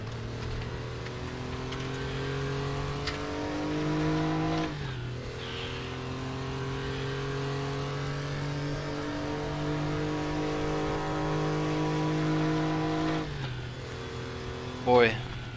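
A Group C race car in the RaceRoom racing game growls loud and steady at high revs, pitch rising through the gears with brief dips at shifts around five and thirteen seconds.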